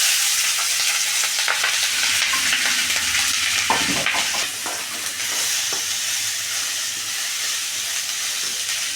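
Steady, dense sizzling of capsicum and carrot frying in a hot pan, with a brief stirring scrape partway through; no voices.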